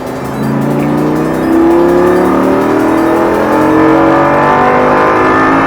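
A Lamborghini accelerates hard, its engine note rising steadily in pitch with loud, close revving, a step up in loudness partway through, and no voices over it.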